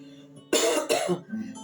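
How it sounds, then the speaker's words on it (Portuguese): A single short, harsh cough from a woman with a slight cold, close up, over a faint background hum. "a tosse é porque eu estou um pouco resfriada"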